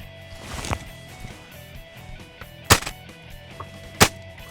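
Sharp outdoor gunshots ring out during a shooting session, three distinct cracks spaced a second or more apart over quiet background noise.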